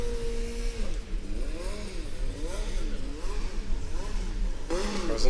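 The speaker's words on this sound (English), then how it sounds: "So we hear now Napoli starting up their engine" A Formula Student race car engine starts and revs at a competition start line, a sustained buzzing engine note that climbs and falls in wavering pitch sweeps, then surges sharply near the end, loud and fairly close.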